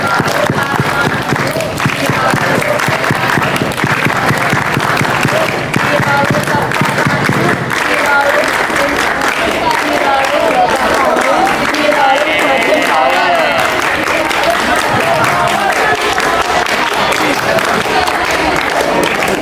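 A group of scouts claps together in the tepuk pandu chant at an ambalan induction ceremony, steady loud rhythmic clapping mixed with voices chanting throughout.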